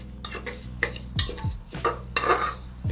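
A utensil stirs and scrapes food roasting in a metal pan over a medium-low flame, clattering close and loud in uneven strokes with a faint sizzle underneath.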